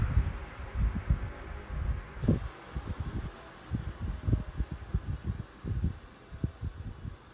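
An old vintage electric fan runs on its low setting with some play in the motor, giving off a soft steady hum broken by irregular low thumps and rattles close by.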